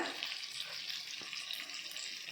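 Fish frying in a pan of oil, a continuous close hiss and crackle of moderate loudness with no talking.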